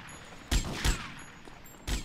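Three heavy gunshots from a big gun in the game GTA Vice City, spaced about a second apart with a gap before the last, loud and close with short reverberant tails.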